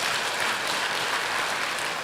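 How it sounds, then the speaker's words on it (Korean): Church congregation applauding during a Sunday sermon, a continuous, even patter of many hands at moderate volume with no voices on top. "박수."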